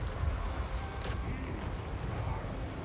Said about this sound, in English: And cannons. Fire at that.